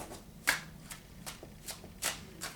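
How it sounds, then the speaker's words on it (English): A deck of tarot cards shuffled by hand in a quiet room, six or so soft, crisp riffling bursts at a steady rhythm about every half second, close and fairly quiet. "I'm going to shuffle just a bit here"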